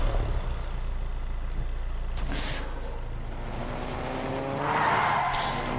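A car driven in a PS4 racing game, its engine droning steadily with a brief sharp skid near the middle and a squealing tire screech toward the end, no voices over it.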